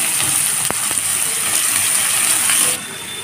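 Chopped onion, tomato, ginger, garlic and green chili sizzle in a pan over a low flame, a loud dense hiss with a couple of clicks, then the hiss drops abruptly near the end.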